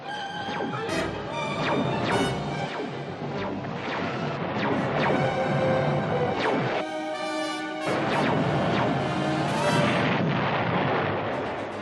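Rapid spaceship cannon fire in a space battle: a continuous barrage of heavy, booming blasts and crashing impacts rolls on for several seconds, loud and dense, with one short gap in the middle and no talking.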